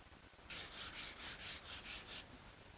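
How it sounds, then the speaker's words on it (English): Sanding between finish coats on a wooden chest with 320-grit wet/dry sandpaper: about eight quick, soft, hissy back-and-forth strokes, close and quiet, with no talking. "this 320 grit wet dry sandpaper is the perfect choice for sanding between coats"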